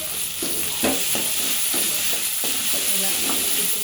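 Chicken and mint frying in a pan for a Telangana-style chicken dish, a steady sizzle broken by rhythmic scraping stirs about every half second, close and clear with no talking.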